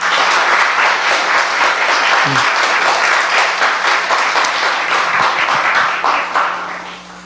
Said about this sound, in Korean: 힘내라고 우리 격려에 힘찬 박수 한번 하십시다.